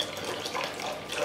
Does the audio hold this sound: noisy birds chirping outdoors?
no